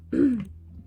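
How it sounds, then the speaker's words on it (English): A single short throat clearing, close and moderately loud, a low rasping rumble lasting under half a second before fading into a quiet room. "Clear my throat."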